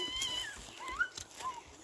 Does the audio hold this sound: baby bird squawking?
no